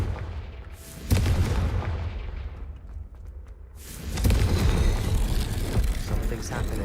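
Fiery spell blast in a Hogwarts Legacy fight, a sudden boom near one second that settles into crackling rumble, then a second heavier burst around four seconds that roars on loudly, with game voices mixed underneath.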